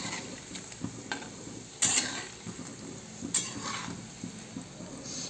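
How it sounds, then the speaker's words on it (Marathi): Alu vadi (colocasia rolls) shallow-frying in oil over a medium flame: a steady, soft sizzle with a couple of sharp metallic utensil clinks, close up and without any talking. "मध्यम आचेवरती अशा भाजून घ्यायच्यात, म्हणजे तळून घ्यायच्यात मस्त अशा"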